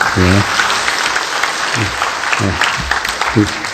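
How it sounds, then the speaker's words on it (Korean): Warm welcoming applause from a church congregation, steady dense clapping throughout, with a few brief voices rising over it. "뜨거운 박수로서 환영해 주시셔서 감사하겠습니다"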